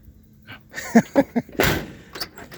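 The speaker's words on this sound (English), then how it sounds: "Sorry, I should have told you I was shutting the door." The door of a 1978 GMC C15 pickup truck shuts during a wash with a few solid thumps close by, followed by a louder slam and some rattling, and no speech.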